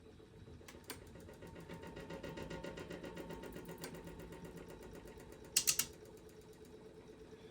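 A homemade frictionless alternator spins up and runs, giving a faint, steady mechanical whir with rapid, regular ticking, then a brief cluster of sharper clicks near the end.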